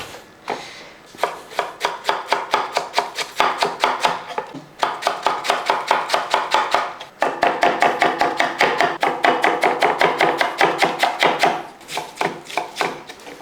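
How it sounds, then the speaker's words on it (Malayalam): A knife slices a small, washed cabbage lengthwise for a masala curry, giving rapid, evenly spaced crisp chops in two long bursts with a short pause between, close and clear with no talking. "കഴുകി വൃത്തിയാക്കി വെച്ചിരിക്കുന്ന ഈ ക്യാബേജ് നമുക്കൊന്ന് അരിഞ്ഞെടുക്കാം."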